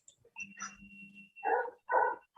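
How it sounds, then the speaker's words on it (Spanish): A dog barks several times, the loud barks coming in bursts after a brief whine, heard through a remote online maths class. "su perro ladrando nos molesta"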